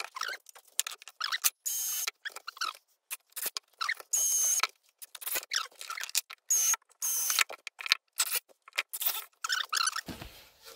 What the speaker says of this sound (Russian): Традиционно засверливаю и закручиваю.